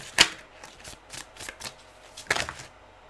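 A tarot card deck shuffled close by, giving quick riffling bursts and soft flicks of cards in a short irregular run.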